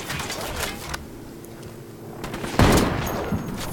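Gunfire in the co-op shooter Ghost Recon Wildlands, with a sniper shooting: a quieter stretch of game ambience, then a loud, sharp burst of shots crashes in near the end and keeps ringing out.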